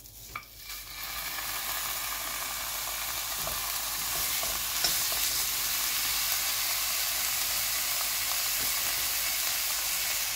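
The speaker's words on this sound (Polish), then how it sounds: "Wrzucamy mięso i obsmażamy z obydwu stron." Beef shank sears in a well-heated frying pan, giving a strong, even sizzle and frying hiss that builds in the first second and then holds steady and close with no talk.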